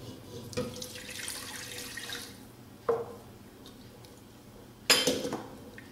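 Water is poured into a pan of melted margarine while making choux pastry dough, giving a steady close hiss and splash with a couple of sharper metallic clinks.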